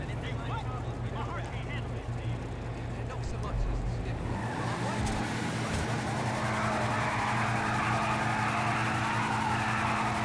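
The Hotring Hellfire race car in GTA Online drives with a deep, loud engine drone that rises in pitch as it accelerates, with tire noise underneath and no talking.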